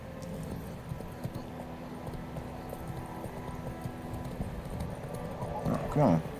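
Horse hooves clip-clop at a steady walking pace in The Witcher 3, a soft, continuous rhythm beneath faint background sound, with a brief voice near the end.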